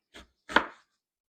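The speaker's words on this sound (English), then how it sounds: "Let's do fine half rings onion, red onion." Red onion being chopped into fine half rings on a board: two crisp knife chops close up, a light one followed by a heavier one, with silence after.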